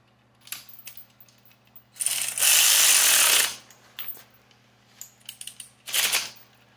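A 12 mm bolt being tightened on a Vevor two-stage transmission jack during assembly: a burst of loud, continuous ratcheting or power-tool whirr lasting about a second and a half, framed by scattered metallic clicks and taps close by.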